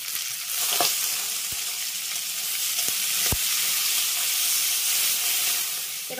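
Chopped green chillies and tomato fry with grated ginger in a hot pan. A loud, continuous sizzling hiss fills the whole stretch, broken by a few faint knocks from a utensil, and nobody speaks.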